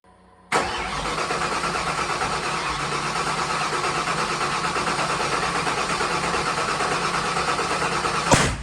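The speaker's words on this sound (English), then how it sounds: "That might be the loudest backfire I've ever heard in my life." A 408 stroker V8 (four-bolt) fires on its first startup with a sudden loud onset, then runs roughly and loudly at a rough, pulsing idle, ending with a sharp backfire pop.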